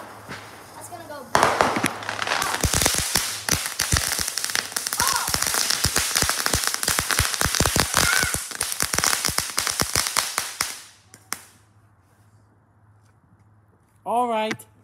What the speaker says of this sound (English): they're called bottle rockets.